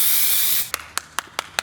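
A spray can primes a miniature with a steady loud hiss lasting over half a second, followed by five short rhythmic spray bursts in even succession.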